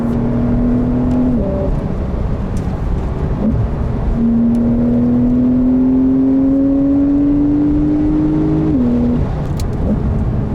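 New Porsche 911 (992) driven hard in sport mode with manual shifting, engine loud and close, holding a steady note, then pulling up in pitch through a long gear with a drop at each shift.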